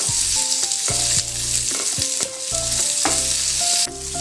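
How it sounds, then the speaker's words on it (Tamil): Chillies and two onions sauté loudly in a pan for a chickpea kurma, a dense close sizzle punctuated by repeated scraping spatula strokes and clanks against the metal, with no voices. "காரத்துக்கு ஏற்ற மாதிரி மிளகாய், அப்புறம் 2 வெங்காயம், இதையும் நல்லா வதக்கிக்கணும்"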